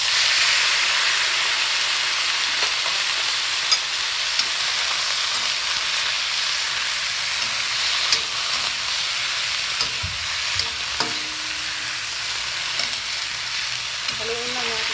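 Shrimp sizzling in a hot pan, a steady, close frying hiss with occasional clinks and scrapes of stirring, no talk.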